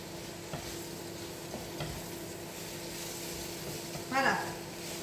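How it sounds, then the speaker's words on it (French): Paella with shrimp, chicken and chorizo simmering in a pan, a faint low bubbling and gentle sizzle with a few soft stirring scrapes and a brief louder clatter near the end. "on va laisser mijoter 5 minutes"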